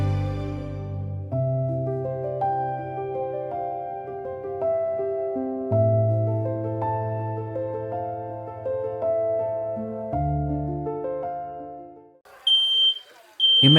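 Smoke alarms give a loud, shrill electronic beeping that repeats steadily from close by, with a slow musical tone held underneath.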